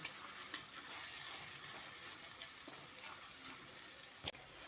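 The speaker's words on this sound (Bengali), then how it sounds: "পেঁয়াজ বাটাটা দেওয়ার পর একটু ব্রাউন করে ভেজে নিচ্ছি" Onion paste frying in a pan until browned, a steady close sizzle running throughout with a couple of faint clicks and a sharp knock near the end.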